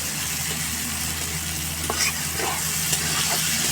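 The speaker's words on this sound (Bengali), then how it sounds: "আমি কিন্তু বেগুনগুলো তেলেই ভাজতেছি, জল টল দিয়ে নেই কিছু" Eggplant frying in oil in a pan for an egg and eggplant dish, a steady close sizzle with faint crackles running throughout, no talk.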